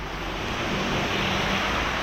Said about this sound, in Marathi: मित्रांनो, तर पाऊस चालू झाला जोरदार.